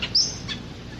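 A songbird in the Nariva wetland gives a short, bright chirp. The call is clear and close, then trails into faint background noise.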